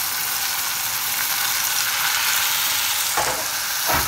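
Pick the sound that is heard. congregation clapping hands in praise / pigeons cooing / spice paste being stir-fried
spice paste being stir-fried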